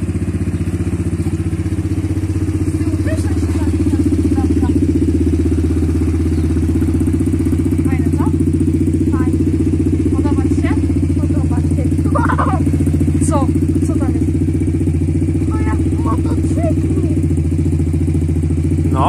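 An XTR Hurricane 250 automatic quad idles up close with a steady, throbbing low engine note and slight clatter. Faint voices come through now and then.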